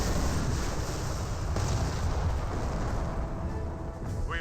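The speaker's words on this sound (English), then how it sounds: "Oh, that was a decoy barrage." An artillery barrage in the World War II strategy game Company of Heroes rumbles as a dense, continuous roar of overlapping shell blasts and booms, loud and unbroken throughout with no voices.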